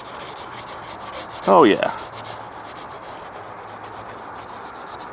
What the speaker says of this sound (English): Never underestimate the power of the scrubby pad. Scotch-Brite.